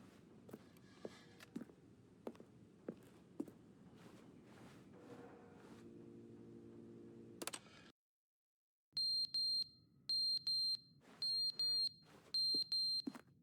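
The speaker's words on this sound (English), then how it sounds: "what's that beeping noise?" A game scene in The Stanley Parable: faint footsteps and soft dings come first, then a short silence. After it a repeating electronic alarm beeps in quick, evenly spaced bursts, clear and prominent.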